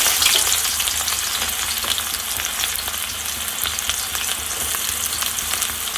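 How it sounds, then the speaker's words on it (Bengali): Onions frying in hot oil with a pinch of nigella seeds, a loud, dense, continuous sizzle with fine crackling held close and steady throughout, no voices. "পেঁয়াজগুলো দিয়ে আমি পেঁয়াজগুলো খুব ভালোভাবে ভেজে নেব, লাল লাল করে ভেজে নেব।"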